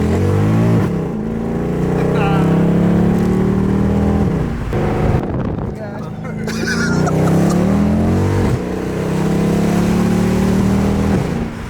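Mercedes W204 C63 with a Valvetronic Designs fully valved exhaust, revving loudly up and down in long swelling pulls with a deep throaty roar, close by and without talk.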